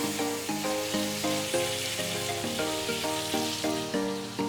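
Thick steak, at least an inch, sizzling steadily in a hot pan just after a flip, a dense continuous hiss under a fairly loud backdrop of repeating musical tones.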